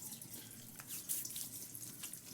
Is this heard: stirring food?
no